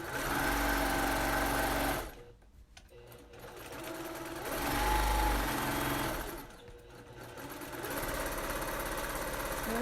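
A sewing machine does free-motion stitch-in-the-ditch quilting, its steady motor whirr running in long stretches and stopping twice briefly, close and fairly loud.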